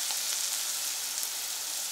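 Fingerling and colored potatoes pan roasting in oil, a dense, even sizzle and crackle heard close up and uninterrupted, with no voices.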